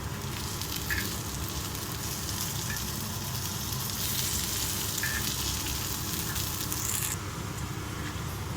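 Curry leaves and onions fry in oil, giving a steady, dense sizzle with occasional crackles and stirring scrapes, heard close and alone without talk.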